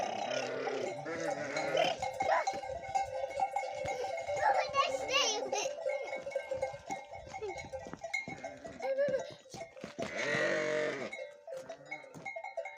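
Sheep and lambs bleat repeatedly, several animals calling close by at a home flock, with a voice and other chatter mixed in.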